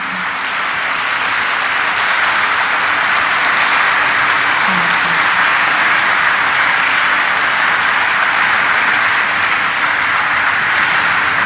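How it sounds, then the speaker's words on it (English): An audience applauds at the stock-exchange listing ceremony for Mankind Pharma Limited, producing loud, dense, sustained clapping that carries evenly from start to finish without speech. "So let's give a thunderous round of applause for Mr. Ramesh Juneja"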